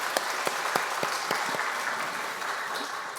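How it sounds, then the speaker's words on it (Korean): A church congregation claps steadily for a few seconds, dense and even, with a few sharper individual claps standing out near the start. "박수로 환영하겠습니다."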